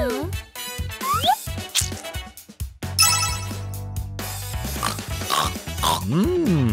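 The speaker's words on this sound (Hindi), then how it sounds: "सुअर" A pig oinks and grunts in short bursts over busy, playful background music with ringing electronic tones.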